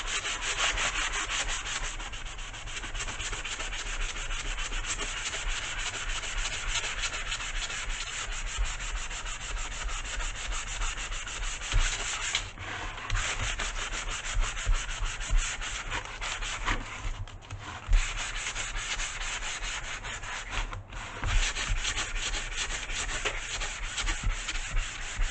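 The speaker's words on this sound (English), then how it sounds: "so now that this is dry, we're going to distress it using our Dollar Tree sanding sponge" A Dollar Tree sanding sponge rubs steadily over painted wood to distress it, a continuous close scratchy rasp with brief pauses, heard alone for about twenty-five seconds.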